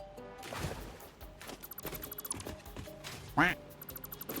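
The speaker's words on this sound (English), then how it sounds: "The dog is quacking." A dog in the Satisfactory game gives short quack-like honks amid clattery game sounds and background music.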